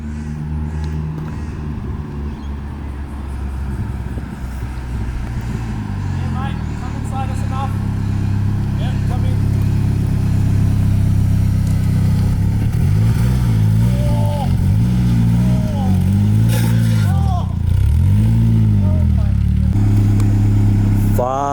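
A lowered Nissan Silvia S14 approaches on the street, its engine building from a distant rumble to a loud, close drone with rising and falling revs, while people talk over it.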